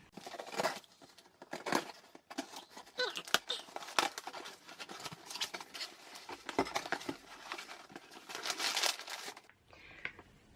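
A cardboard parcel being opened with scissors, heard close up as a steady run of small crinkling, tearing and scraping sounds in irregular bursts, quiet with no talk over it.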